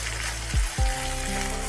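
Okra fries in a pan, a steady broadband sizzle with a couple of low thumps beneath it, continuous and moderately loud, with no talking.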